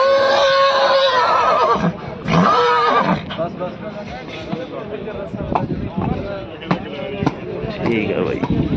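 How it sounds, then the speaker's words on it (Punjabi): A horse whinnies loudly twice in the first few seconds at a horse fair, with people talking and general outdoor bustle continuing throughout. "ਜੋਧਾ ਘੋੜੇ ਦਾ ਨਾਮ"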